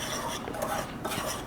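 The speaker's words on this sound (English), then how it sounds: "just a quick whisk like this" Quick whisking of a brown sugar mixture for gingerbread pancakes in a bowl, a rapid scraping, clinking stir of a metal whisk, close and continuous with no talk.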